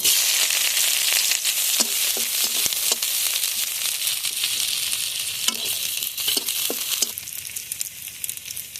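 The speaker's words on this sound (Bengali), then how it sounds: "কড়াইতে আবারও তেল দিয়ে দিচ্ছি" Chopped onions fry in hot oil in a wok with a loud, dense, continuous sizzle, and sharp stirring scrapes and clicks ring out over it.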